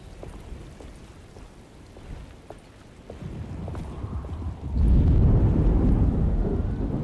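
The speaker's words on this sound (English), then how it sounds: "Just keeping an eye out for the storm. Radio says it could be a wild one." Thunderstorm with steady rain, distant thunder rumbling faintly at first, then swelling midway into a loud, deep, sustained roll that lingers to the end, no voices.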